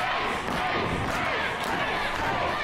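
Dense, steady roar of a pro wrestling crowd cheering at a live homecoming show, continuous and loud with no break, filling the whole arena.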